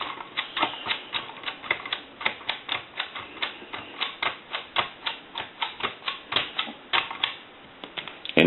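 Touch tone dialing on a Western Electric Princess desk telephone under repair, a fast run of sharp button clicks in a steady, slightly uneven rhythm, close and fairly loud, with no voices.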